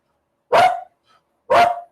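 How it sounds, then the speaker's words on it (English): Two loud, close dog barks spaced about a second apart, each short and punchy, with near silence around them and no speech. "Why are you barking at me?"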